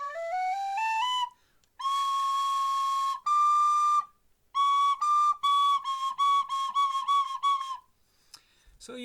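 A tin whistle runs quickly up a short scale, then holds a long C natural note, followed by a string of quick repeated tongued notes and a brief trill, played close and clear.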